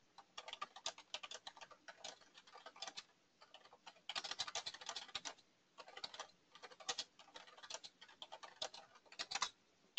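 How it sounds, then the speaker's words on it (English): Fingers type on a computer keyboard in quick bursts of close, faint clicking keystrokes separated by short pauses, with no voices. "I'm going to type to Daniel real quick"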